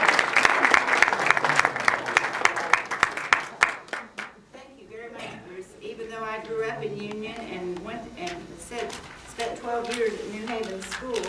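Audience applause at a community talk about Union, dense clapping for about four seconds that fades out, followed by someone speaking alone.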